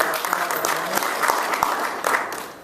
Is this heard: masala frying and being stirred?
no